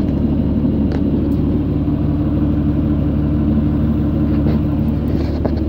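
A tractor engine rumbles steadily at idle during hay making, heard from the cab, a low continuous drone with no pauses or voices.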